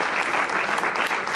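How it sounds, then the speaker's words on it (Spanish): Steady, dense applause from a church congregation fills the whole moment, loud and continuous with no pause. "Denle un aplauso al Señor."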